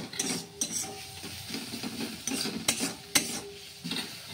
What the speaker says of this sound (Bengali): পেঁয়াজ আর লঙ্কা হালকা করে ভেজে নিচ্ছি